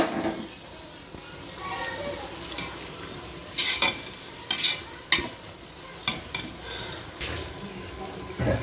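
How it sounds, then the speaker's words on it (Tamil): Ginger garlic paste sizzling as it fries in a pan, a steady soft crackle broken by several sharp clanks and scrapes of a spoon against the metal, close and moderately quiet. "இஞ்சி பூண்டு பேஸ்ட்டு போட்டு நல்லா பச்சை வாசனை போகிற வர வதக்கி எடுக்கும்"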